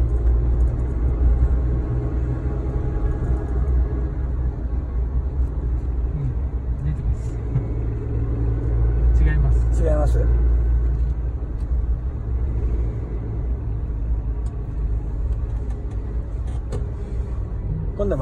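A Suzuki Jimny JB23W with a manual gearbox drives on a test drive, a steady low engine rumble and road noise heard from inside the cabin, with people talking throughout.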